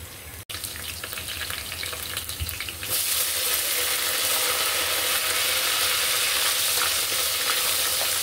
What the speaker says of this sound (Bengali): আমি লাস্ট মুহূর্তে একটু শুকনো মরিচ ভেজে নিচ্ছি